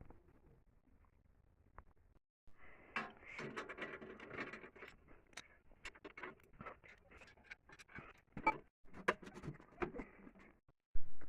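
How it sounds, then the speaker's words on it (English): Bolts being removed from a tractor's hydraulic lifter on the differential case, heard as a run of metallic ratcheting clicks and tool rattles in bursts, with brief quiet gaps and no talking. "So now I'm gonna have to remove all the bolts so the lifter can be taken off."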